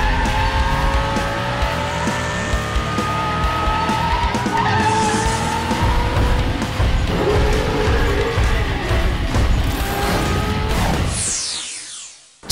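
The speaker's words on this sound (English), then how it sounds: "It's a BOOMi Star race car." An animated BOOMi Star race car, a fast flying toy-style racer, skids with a long screeching tire squeal and revving engine for several seconds, loud and close, ending in a sharp whoosh and cut-off.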